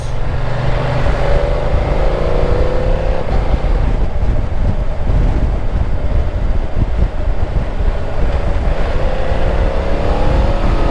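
A BMW F900XR motorcycle accelerating hard with quick shifter gear changes, engine pitch rising and dropping across shifts, loud and buried in heavy wind rush.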